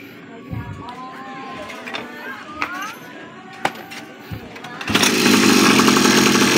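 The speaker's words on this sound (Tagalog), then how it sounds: "Itatry natin pa andarin." A 49cc enduro motorbike with a new carburetor and fresh fuel sits quiet through several clicks and knocks of handling, then its small engine catches and runs at a loud, steady, buzzy idle for the last couple of seconds.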